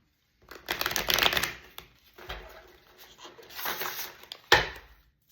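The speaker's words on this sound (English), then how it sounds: "Feeling called to shuffle." Tarot or oracle cards being shuffled in several bursts of riffling and rustling, ending with a sharp tap as the deck is squared, close by.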